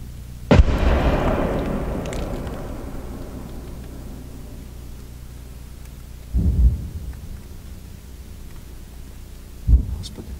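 Shelling in a war zone in Ukraine: one loud, close blast with a long rumbling decay, then two further heavier thuds after several seconds, each standing alone over a quiet background.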